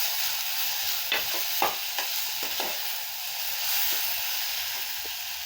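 Carrots, peas and other vegetables sautéing for a hotel-style potato masala, a steady sizzling hiss broken by several sharp scraping strokes of a spatula stirring the pan, close and continuous with no talk.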